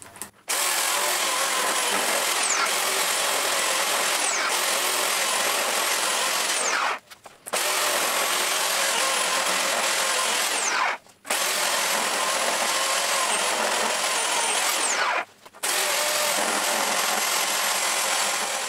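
A sharp chainsaw rough-cuts wood blanks for turning, a loud near whine in long sustained cuts broken by three brief pauses where the engine drops off before cutting again.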